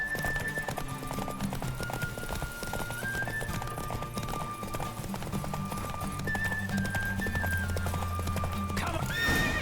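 Horse in The Witcher 3 galloping hard in a race, steady rapid hoofbeats with repeated neighs and whinnies over a continuous game music bed, loud and close throughout.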